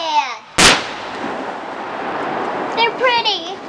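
A single loud, close firework burst cracks once at a backyard fireworks display, trailing into a long rumbling decay while children and adults chatter and exclaim in the background.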